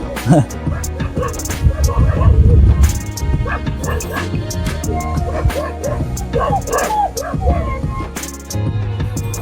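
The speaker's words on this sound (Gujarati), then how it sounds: "એની વાહે કુતરા છે" Several dogs bark and yip by a village river, sharp excited bursts mixed with whimpers and overlapping voices of people talking and shouting nearby.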